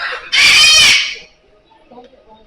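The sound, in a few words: bird in a zoo enclosure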